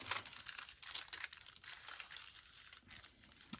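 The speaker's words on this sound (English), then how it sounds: "I'll just hand tear that." Soft, close paper crinkling and tearing as a journal page is torn by hand, a quiet run of rustling rips with no voices.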